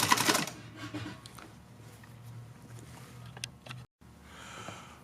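A sewing machine stitches the corner of a fabric face mask to tack down the strap, making a rapid mechanical patter in short bursts that stops briefly and then resumes, with soft fabric rustling.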